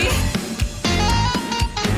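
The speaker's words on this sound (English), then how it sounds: "to me, that just sounds like a distorted electric keyboard" A distorted electric keyboard synth played through a guitar amp blares in loud rhythmic chords with sharp stabs and a sustained buzzy tone, alone without voices.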